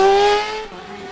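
A rally car races flat out on a stage at the Shackleton RSA Summer Series finale, its engine note loud and sustained, then easing off and fading slightly toward the end.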